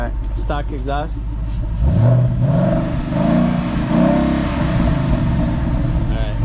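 A Ford Mustang GT engine with stock exhaust revs up loudly and holds a steady growl, dipping and rising through several pulls, with a brief voice near the start.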